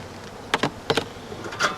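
Honey bees buzz in short bursts during a beehive inspection, a few faint passes close to the hive, no talking.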